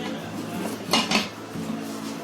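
New Pigeon nonstick pots and pans are handled, with a couple of quick metallic clinks and knocks close by over a quiet hum.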